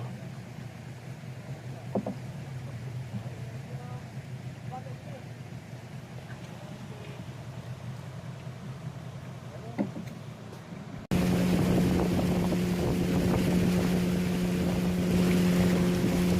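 A motorboat riding downstream on a jungle river in Taman Negara, Malaysia, with wind and water rushing past, then the outboard engine roaring louder with a steady droning hum, close and continuous.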